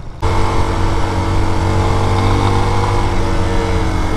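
A Raven BSR250 enduro motorcycle's engine starts up and runs at a steady, even idle, loud and close with a constant low drone throughout.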